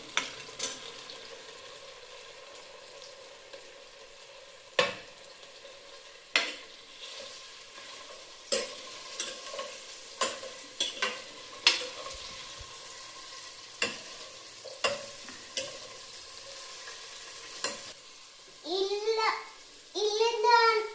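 Potatoes and carrots stir-fried in a pan, with a spatula scraping in repeated separate strokes over a faint sizzle and a voice talking briefly near the end.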